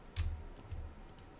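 Several soft, close clicks of a computer mouse during a Minecraft-style modded game session, spaced irregularly with a quiet pause between them and no talk.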